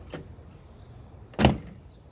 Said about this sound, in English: just shut the door real quick and make sure they do close okay